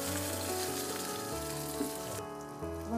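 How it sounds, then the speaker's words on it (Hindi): Garlic and ginger sizzle steadily in a hot pan while cooking for chutney, a close continuous frying hiss with no talk. "इसको हल्का सा रोस्ट कर लेंगे हम, हल्का सा ब्राउन हो जाए"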